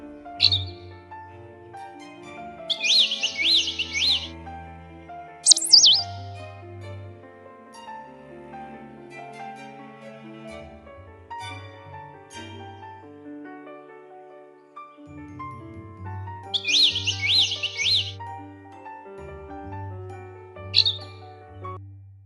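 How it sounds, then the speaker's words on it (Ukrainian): Birds chirp and trill in short bright bursts in a winter forest, with sparse calls scattered through a quiet outdoor scene and a low tonal hum underneath. "почути багато птахів, які зворушують тишу своїми голосами"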